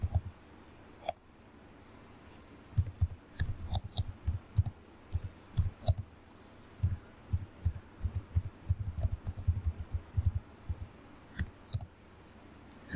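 Typing on a computer keyboard while entering text in Microsoft Word 2010: irregular bursts of close, light key clicks, with short pauses between runs of keystrokes and no talking.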